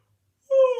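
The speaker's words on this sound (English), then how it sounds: "we're going to take a yawn" A person gives a brief voiced yawn as a relaxed-jaw vocal warm-up, a single smooth sustained tone that starts abruptly after silence.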